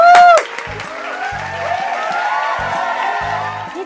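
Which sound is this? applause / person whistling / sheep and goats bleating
applause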